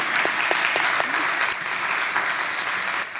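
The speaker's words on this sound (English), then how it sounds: "Love to give you a round of applause." Audience applause at the Parsons AAS Expo and Open House, with a steady round of close, crisp clapping from a crowd filling the whole moment and some voices mixed in.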